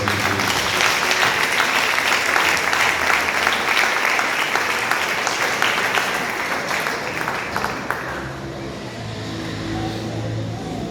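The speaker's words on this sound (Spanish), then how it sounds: "Un aplauso al Señor" A church congregation claps loudly and continuously, the applause filling the room for about eight seconds before easing off, with a low hum and some voices underneath.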